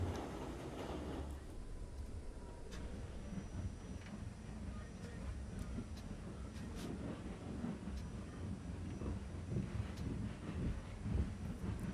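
A New York subway train on the B and D line during a snow run rumbles along, giving a steady low roar with rail noise and wind buffeting that keeps going throughout.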